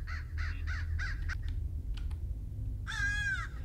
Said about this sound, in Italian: c'è un modo per azzittare questo affare? Sto corvo scorvaccio maledetto.